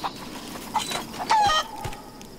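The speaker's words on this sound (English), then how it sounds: "Did that chicken just run into the fire and die?" A chicken in the Rise of the Tomb Raider game gives a few short clucks and squawks, moderately close, over a quiet ambient background.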